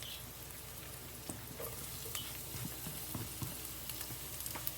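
Garlic and white onion frying in a pan for a creamy chicken curry, a steady close sizzle with soft scattered pops and occasional faint stirring scrapes.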